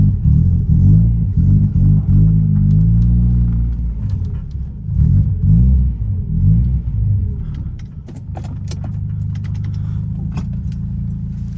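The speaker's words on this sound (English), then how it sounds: "This car is not too happy until it is actually warmed up" Trailblazer engine idling roughly while warming up, a loud close low rumble with wavering, uneven revs that settle into a steadier drone toward the end, with faint metallic clinks and no talking.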